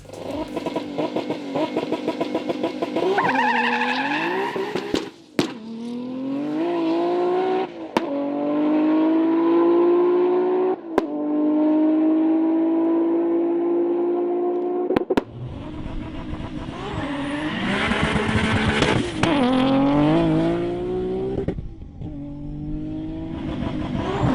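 1000+ hp stick-shift Nissan GT-Rs racing on a runway at the 2019 GT-R Challenge, a loud engine revving hard through repeated gear changes with brief shift cuts, rising pitch in each gear, no talk.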